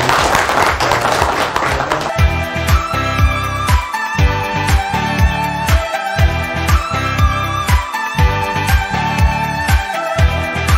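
Brief burst of crowd applause at a grand opening ceremony, which quickly gives way to loud, rhythmic music with a steady pounding beat that continues to the end.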